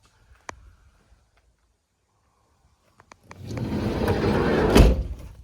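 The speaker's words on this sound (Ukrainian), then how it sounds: "Дверки закриваються гарно." A sharp click, a few faint knocks, then a loud rushing slide ending in a firm thud as the sliding door of a 2012 Renault Trafic van closes nearby.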